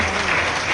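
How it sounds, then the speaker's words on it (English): A crowd at an alumni meet applauding steadily, dense continuous clapping filling the whole moment without a break. "your clapping should not stop."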